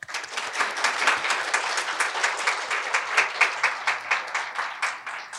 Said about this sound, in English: I think we all deserve a big round of applause for ourselves